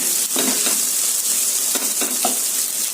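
Eggs sizzle and fry steadily in a pan for egg fried rice, a loud continuous crackle broken by a few short stirring scrapes, with no voices.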